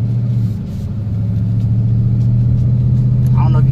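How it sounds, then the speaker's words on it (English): A Ford Mustang's engine gives a steady, loud low rumble from inside the cabin while driving, holding a constant drone throughout, with a brief voice at the end. "I don't know if you guys can hear it, but this car is actually loud."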